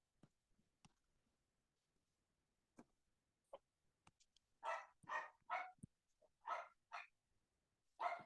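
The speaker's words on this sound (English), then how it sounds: "I apologize for the puppy barking there" A puppy barks in a quiet room, a burst of about six sharp, faint yips in quick succession after scattered soft ticks and clicks, with no one talking.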